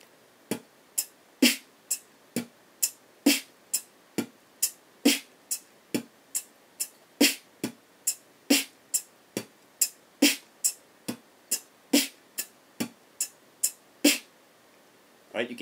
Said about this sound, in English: you can hear again at the end of each phrase the snare drum is shifted over and there's an extra hi-hat put in there